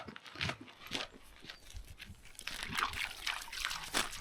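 Water sloshing and trickling as footsteps wade through a shallow stream in the Scottish Highlands near Balmoral, with a few splashy surges; fairly close and moderately loud.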